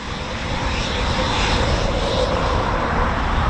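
A Eurofighter Typhoon FGR4 jet at the RAF Coningsby quick reaction alert station roars loud and near, a steady broadband engine rumble that swells slightly and holds for the whole stretch.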